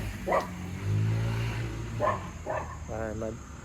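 A dog barks several times in short bursts, fairly close, amid a busy indoor background, while a person talks over it.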